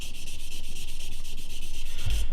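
Close, rhythmic scratchy rubbing of sandpaper on a small plastic part of a USS New Jersey scale model, quick back-and-forth strokes repeating steadily, ending with a soft thump.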